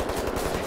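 Dual assault rifles blaze away akimbo in a Wolfenstein: The New Order firefight, a rapid, unbroken stream of loud automatic shots lasting under a second.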